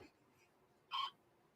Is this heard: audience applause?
no